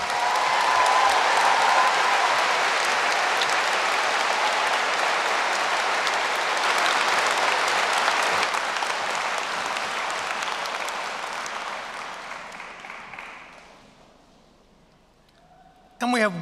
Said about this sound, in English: Can we have one more round of applause for Professor Nolan?